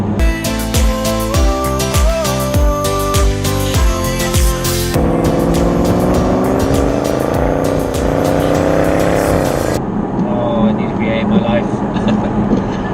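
A Jaguar XKR sports car engine and exhaust roar loudly, with throttle blips and gear changes, under and between bursts of talking.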